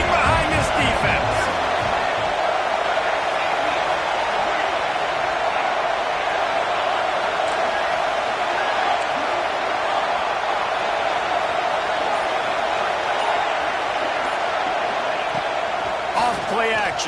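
A stadium crowd at a football game roars for the defense on a big third down in the red zone, a loud, sustained wall of cheering that holds steady from start to finish.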